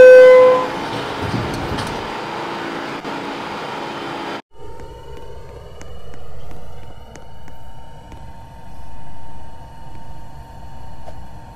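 A subway train in the Roblox game STS pulls out of its last stop: a horn sounds at first, then the train starts moving with a rising whine and rhythmic rumbling that swells and fades.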